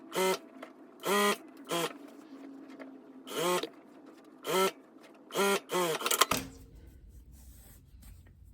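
A sewing machine stitching a folded hem on a jumpsuit runs in short bursts of fast mechanical whirring, separated by quiet pauses, close and clear, then stops and is followed by a soft shuffle.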